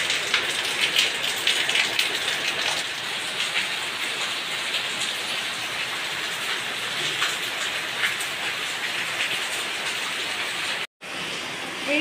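Rain falls steadily outside as an even, dense hiss of drops on surfaces, continuous and fairly loud, broken by one brief cut near the end.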